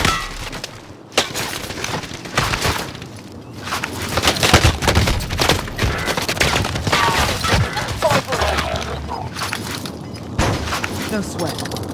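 Gunfire in the video game Warzone, bursts of shots with sharp cracks and glassy breaking sounds, loud and close, layered under frequent excited talk.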